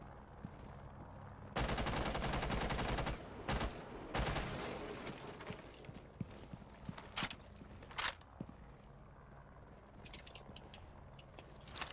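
Bursts of gunfire in the tactical shooter Rainbow Six Siege: a long loud automatic volley, then shorter bursts and scattered single shots, with faint footsteps and shuffling in between.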